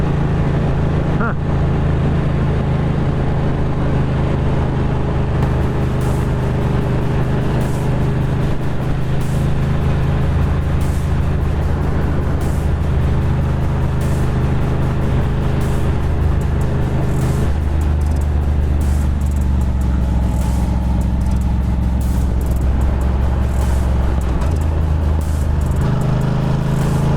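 Motorcycle cruising along a mountain road at Stone Mountain, North Carolina, its engine droning steadily and loudly up close with wind rush, shifting pitch slightly late in the ride.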